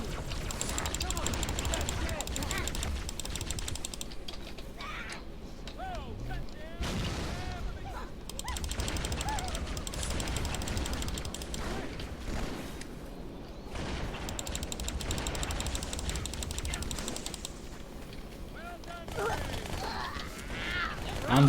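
Dual-wielded guns fire in a Halo 2 multiplayer match, dense continuous bursts of gunfire and explosions filling the whole stretch, loud and busy, with brief lulls between volleys.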